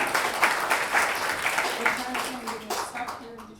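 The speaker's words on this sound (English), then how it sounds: "you can feel free to give these wonderful folks a round of applause" Brief round of audience clapping at a speaker series event, moderately loud, with a voice talking over it as the applause continues.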